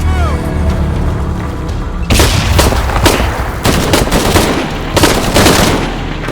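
Gunfire in the Shadow of the Tomb Raider video game: after a brief quieter stretch, a loud barrage of rapid automatic shots and bursts breaks out and keeps going in dense waves, with game voices faintly under it.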